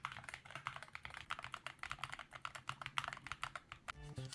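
Typing on an ASUS ROG Falcata split keyboard: fast, evenly spaced keystrokes, close and quiet, with crisp clicks over a soft thock that run for several seconds.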